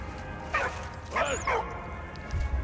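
A small dog in Soldat Inconnu: Mémoire de la Grande Guerre gives three short yipping barks at mid-distance, one early and a quick pair about a second later, against a low game ambience.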